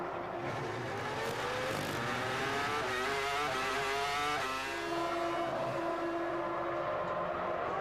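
A Formula One car at the 2002 Canadian Grand Prix dives into the pit lane, its high-pitched engine note sliding and falling steadily as it slows, loud and continuous with no voices.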